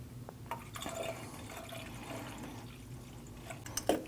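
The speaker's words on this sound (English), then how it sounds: "Now you can fill your reservoir with coolant to the manufacturer's specification." Coolant pours into the reservoir of a Nissan NV2500, a quiet, soft liquid trickle with a few faint clinks and splashes near the end.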